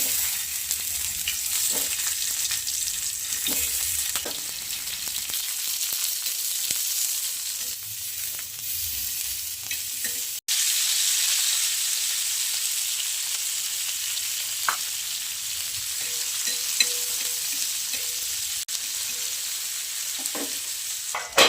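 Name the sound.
frying in oil in a pan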